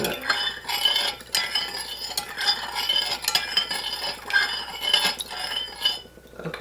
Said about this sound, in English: Just gonna stir that in a bit.